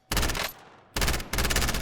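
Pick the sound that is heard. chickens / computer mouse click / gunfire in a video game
gunfire in a video game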